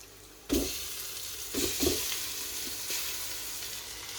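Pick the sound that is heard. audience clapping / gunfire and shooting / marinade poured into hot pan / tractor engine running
marinade poured into hot pan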